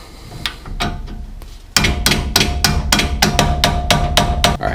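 A hammer drives a wedge into a 1966 Mustang front wheel assembly, sharp metallic blows coming in a quickening, steady series, a few spaced strikes first, then rapid close repeated hits.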